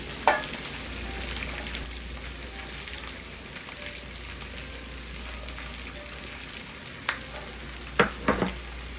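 Green beans go into a pan with potatoes and bacon and get stirred, giving a soft steady sizzle with occasional scraping clatters of the utensil near the end.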